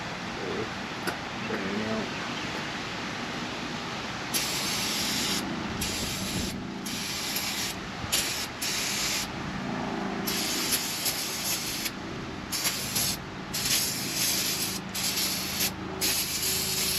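Brake cleaner sprayed from an aerosol can while axle seals are serviced on a tow vehicle, heard as a series of loud, close hissing bursts of varying length over shop background noise, with a few exclamations from a person.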